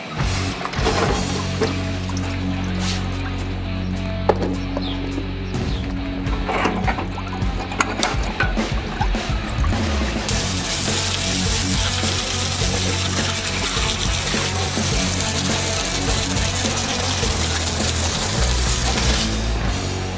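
Water pours and splashes over slimy, sticky DeLorean parts laid out on a pallet, a steady broadband rinse with clanks and clatter as pieces shift, growing brighter and hissier partway through, continuous and close.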